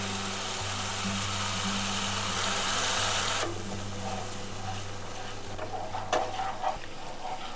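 Cashew and sesame paste sautés in oil in a wok, crackling with a steady sizzle that drops quieter partway through, followed by a few soft scraping knocks of stirring.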